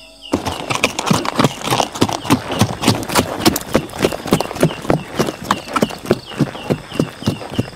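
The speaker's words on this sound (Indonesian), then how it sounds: "terdengar suara gemerincing dari sebuah kereta kencana yang ditarik 4 ekor kuda dengan satu sosok duduk di dalamnya" Golden horse-drawn carriage pulled by four horses, hooves clip-clopping in a rapid steady rhythm close by with faint jingling, continuous throughout.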